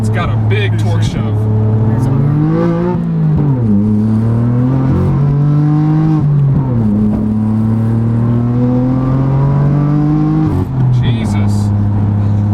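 A modified twin-turbo BMW F80 M3 with a manual gearbox, rolling into the throttle in second gear around 4,000 RPM, gives a loud, steady engine drone that climbs and drops through several gear or throttle changes, heard from inside the car.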